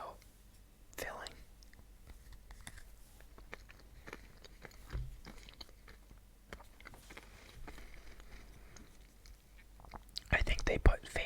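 A cookie-dough-flavored Oreo with a filling holding small crunchy chocolate bits is bitten and chewed close to the mic, with soft crunches and mouth sounds under quiet whispering.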